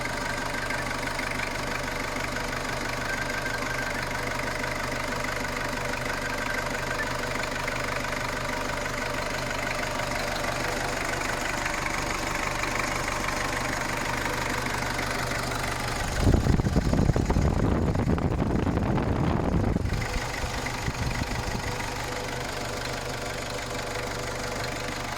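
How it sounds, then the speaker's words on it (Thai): A Ford Ranger 2.5 pickup's diesel engine idles in a low, steady knocking rumble, close by, with a brief louder burst of noise near the end. "ขณะนี้ผมสตาร์ทเครื่องไว้อยู่นะครับ ก็จะให้เห็นว่าเสียงของเครื่องยนต์นะครับ"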